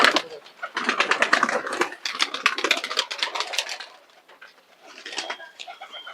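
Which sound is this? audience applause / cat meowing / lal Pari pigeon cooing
lal Pari pigeon cooing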